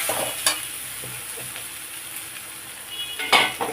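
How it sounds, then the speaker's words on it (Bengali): Vegetables being sautéed and stirred in a pan with ground radhuni spice, a steady close sizzle with scraping stir strokes and a few sharper clinks of utensil against metal. "ভাজা সবজি এগুলো একটু কষে নিই।"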